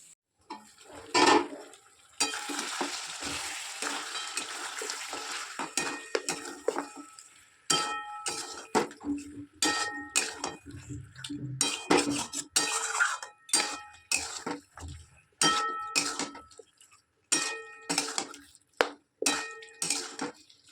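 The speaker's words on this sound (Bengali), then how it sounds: "মাংসটা রান্না বসিয়ে দিয়েছি চলো তোমাদেরকে একবার দেখিয়ে দিই" Chicken curry in a thin gravy cooking in a pot, with repeated metallic clinks and scrapes of a spoon stirring against the pot over a bubbling, hissing background, close by.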